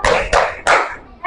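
Children in a primary school classroom clap hands in three quick loud bursts, each fading before the next, with a fourth burst starting at the end.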